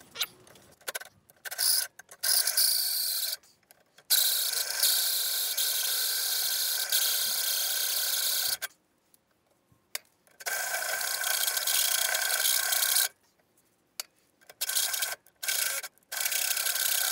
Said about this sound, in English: now we just got to get a hole saw. We'll just go straight over the top of that, and we'll just bore a hole right through that